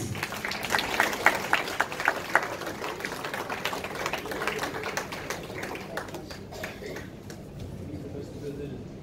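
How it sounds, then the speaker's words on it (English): Audience at a live golden-era melodies music show gives a sustained round of applause, dense clapping that is strong at first and then thins and fades, with talk and background sound underneath. "Can we have a round of applause, please?"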